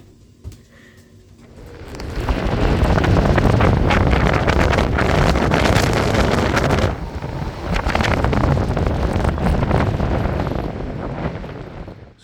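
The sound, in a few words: wind blowing on a boat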